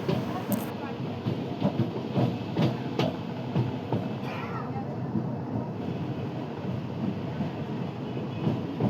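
Passenger train running on rails between Guntur and Vijayawada, a steady broadband rumble and rattle of the carriages with faint rhythmic clatter throughout, heard from inside the train.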